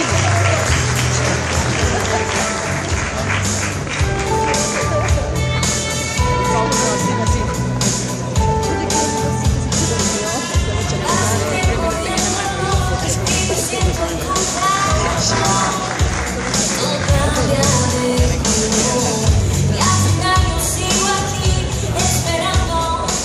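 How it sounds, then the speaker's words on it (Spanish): Dense, sustained applause and crowd noise fill the hall at an Ecuadorian music awards ceremony, loud and continuous with no break. "Fuerte el aplauso esta noche."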